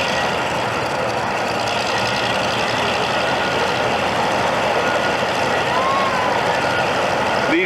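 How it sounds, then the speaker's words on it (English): Heavy machinery drones steadily nearby as a crane loads lead onto a boat, with an engine rumble, a faint reversing beep and occasional clanks, no one talking. "the bits of lead that are being loaded on to the crane, which lifts them up"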